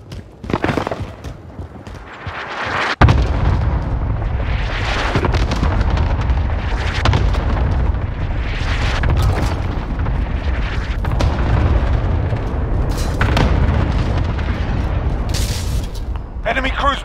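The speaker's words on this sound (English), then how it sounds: "Enemy cluster strike incoming." Cluster strike explosions in Call of Duty Modern Warfare free-for-all play: after a short quieter lead-in, a sharp blast sets off a long dense stretch of rumbling booms and crackling impacts, loud and continuous, with game voices partly over it.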